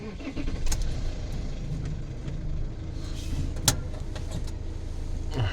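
A delivery truck sets off on a snowy, slushy road, its engine rumbling low and close under a steady hum, with scattered clunks and a sharp knock midway, and no one talking.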